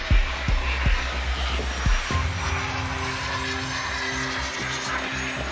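Boeing B-52 bomber jet engines at an airshow, a steady broad roar with low droning tones after a few initial thumps, heard from a distance without talk.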